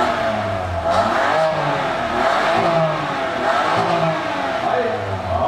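A drift car's engine revs loudly nearby at Tokyo Motor Fes 2016, its pitch rising and falling in repeated throttle blips over a continuous growl.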